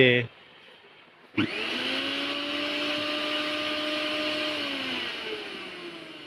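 A Ricco Toofaan 1200W electric blender starts up after a brief sound and short quiet, then runs with a loud, steady whirring whine that dips slightly in pitch near the end.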